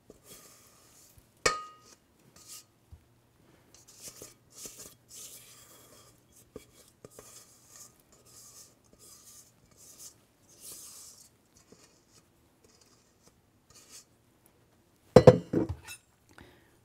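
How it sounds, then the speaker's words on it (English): Offset spatula spreading a mixture across a pan of brownies, soft intermittent scraping and rubbing strokes, faint and close, with a sharp clink of metal against the pan near the start and a louder knock near the end. "I'm using an offset spatula to do this."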